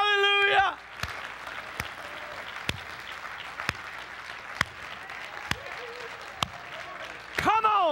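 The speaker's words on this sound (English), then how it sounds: "Come on, give God a good clap offering with the devil between your hands." A church congregation claps together in steady, sustained applause that fills the room, with a voice rising briefly at the start and again at the end.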